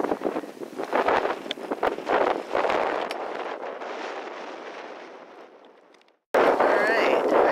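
Strong gusts of wind buffet the microphone at sunset among the red rocks of Valley of Fire, roaring loudly then fading before a sudden cut and another loud blast; no clear speech.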